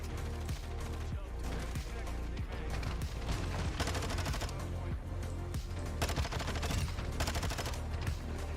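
Sustained automatic gunfire in the video game Call of Duty Modern Warfare 2, rapid loud bursts repeating almost continuously over a busy battle background.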